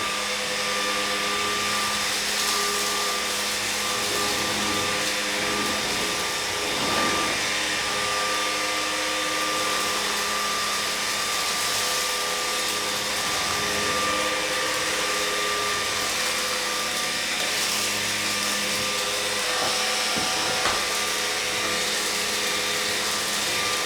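A LEVOIT cordless vacuum cleaner with rubber bristles sweeps spilled flour and oatmeal off a bare wood floor, a loud continuous motor whir with a steady tonal hum lasting over twenty seconds, with brief shifts as it moves.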